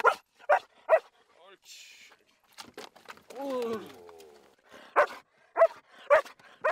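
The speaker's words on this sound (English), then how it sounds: "Water search dogs must bark loudly upon discovering a person in the water" A water search and rescue dog aboard a boat lets out several sharp barks close by, split by a whimpering whine, while people speak between the barks.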